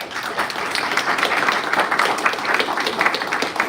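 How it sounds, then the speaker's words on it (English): An audience at a partnership signing ceremony applauds the speakers, a steady dense round of clapping that runs nearly four seconds at a moderate, even level. "let's give our speakers one more round of applause"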